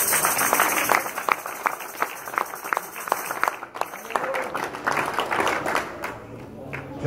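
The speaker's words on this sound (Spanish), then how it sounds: "Denle un aplauso al Señor Jesucristo." Church congregation clapping during a Spanish-language sermon, a ragged, uneven burst of hand claps rising and falling with scattered voices mixed in, fairly close and lively.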